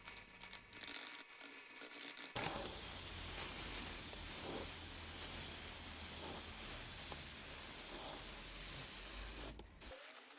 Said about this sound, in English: on the lower layers I put on a blue with an airbrush